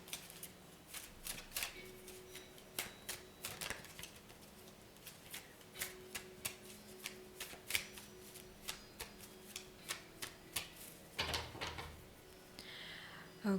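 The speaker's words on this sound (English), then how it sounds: "some good shuffling." Tarot cards are shuffled by hand in steady rapid riffles and taps, soft and close, in a quiet room with no voices.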